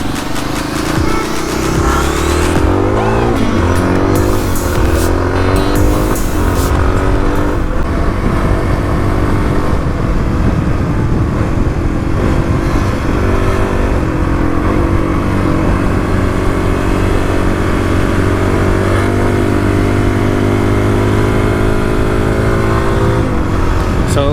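A Kawasaki KLX351 dual-sport motorcycle rides out onto gravel rally roads, its engine loud and close with revving and gear-change swings, then settling into a steady droning pull.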